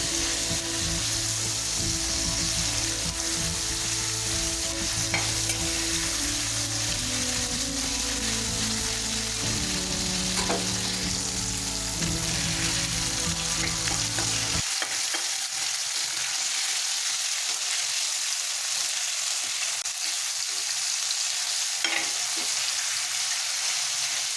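Ginger and garlic paste sautéing with chicken liver on a tawa, a constant dense sizzle and crackle throughout, loud and close, with faint stirring scrapes.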